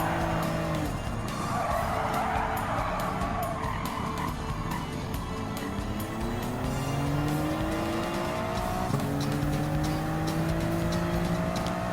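A race car in Gran Turismo 7 skids across a mix of dirt and tarmac, a loud continuous engine drone with rising and falling revs and long tire squeals sliding in pitch.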